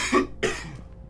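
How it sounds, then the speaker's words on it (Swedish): A person gives two quick, harsh coughs in close succession, close by and fairly loud, with no talk over them. "Jävla hostas."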